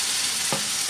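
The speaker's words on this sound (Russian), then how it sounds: "Ну, мясо там быстро жарится." Meat sizzles and fries in a pan for an egg dish with onion, cheese and tomatoes, a steady bright crackling hiss with a couple of brief stirring scrapes, close up and alone.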